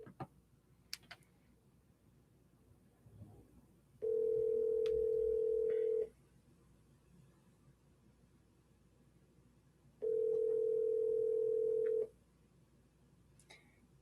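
An outgoing phone call to a Tampa, Florida number rings back with two long, steady tones separated by a pause. The line is otherwise quiet, with faint clicks at the start.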